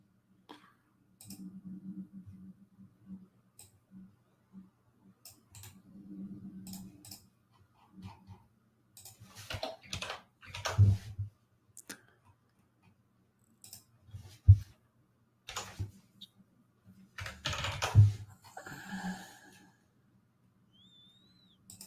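Typing a web address on a computer keyboard: scattered bursts of close, soft key clicks separated by quiet gaps, with faint low murmuring early on.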